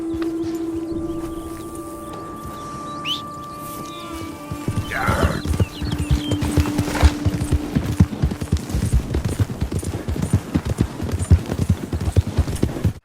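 Horse hooves clip-clop in a steady walking rhythm in Red Dead Redemption 2, starting a few seconds in and continuing, with a brief whinny and a sustained tone fading beforehand.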